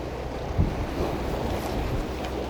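Strong wind buffets the microphone on a seaside cliff during sea fishing for blackfish off Udo, a steady low roar with gusts and faint surf underneath, no talk.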